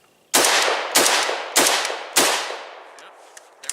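Four loud, close rifle shots from a PTR91 firing steel case ammunition come in a steady rhythm about half a second apart, each with a ringing echo, followed by faint metallic clicks.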